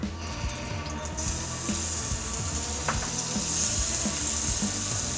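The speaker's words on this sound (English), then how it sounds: "So I'm gonna add a little butter." Butter sizzles and fries steadily in a hot pan as a meat sauce is started, a continuous close crackling hiss with faint stirring, no talk over it.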